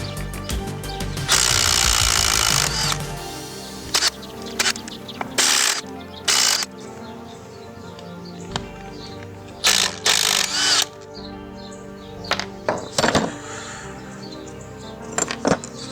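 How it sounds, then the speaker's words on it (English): Removing 12 mm bolts from a Mazda Miata transmission bell housing during a B2200 turbo engine build, with loud, close ratcheting and power-tool bursts alternating with clinks and pauses. "Now we're going to remove these bolts. They're 12 millimeter."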